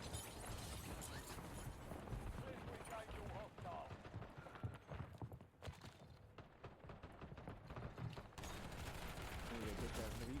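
Light machine gun fire in a video game: dense, rapid bursts crackle almost without a break, mixed with other busy in-game noise at a steady, loud level.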